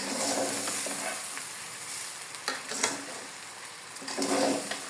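Rice grains frying with potatoes in a pan give a steady sizzle, broken by a few scraping stirs of a spoon and brief louder crackles, close up with no voices.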